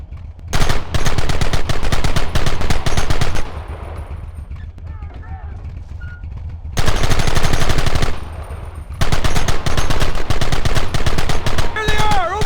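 Loud bursts of rapid gunfire from the Red Dead Redemption video game, dense volleys in two long stretches separated by a quieter pause, echoing and sustained.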